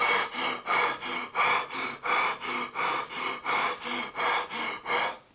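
A voice imitates heavy, exhausted panting after wrestling: about a dozen rhythmic, loud gasping breaths in even succession, close to the mic and with no other sound.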